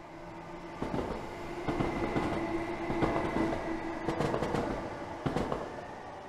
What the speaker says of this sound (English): Let's get a nice bridge shot as the train goes underneath us.